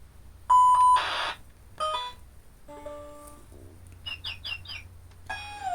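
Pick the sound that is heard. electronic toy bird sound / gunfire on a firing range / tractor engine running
electronic toy bird sound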